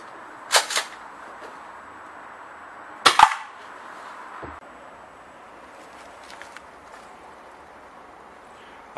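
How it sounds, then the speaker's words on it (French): A Tokyo Marui M870 Tactical airsoft shotgun fires test shots at a 10-metre range: two sharp, snappy pops several seconds apart, then quiet. "C'est parti pour le test de tir en CB à 10 mètres."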